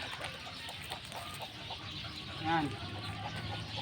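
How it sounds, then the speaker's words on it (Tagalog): A nine-month-old bulik gamecock gives a brief cluck under ongoing talk, set against a busy outdoor background. "Pakilala ko ang aking mga manok."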